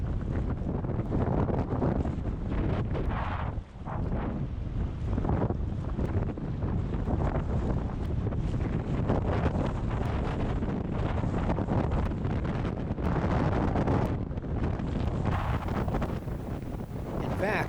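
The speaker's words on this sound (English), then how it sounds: "it was so windy that you had to paddle the air currents as much as the water" Strong wind gusts buffet the microphone on the Middle Fork Salmon River in Idaho, creating a loud, continuous rushing roar throughout, with faint water and rafting sounds underneath.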